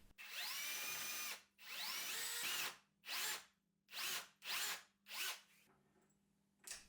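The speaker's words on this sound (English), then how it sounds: "Now I can kind of drill out just the center of this side with the long kind of center drill" A long center drill bores a recess for cap screws, partway into one side of a workpiece. The drill whines loudly in about six separate bursts, first long and then shorter, with brief stops between them.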